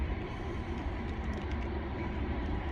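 Canadian Pacific freight train hauling heavy loads behind six engines, passing as a steady, continuous low rumble that stays loud and close for the whole stretch, with no talk over it.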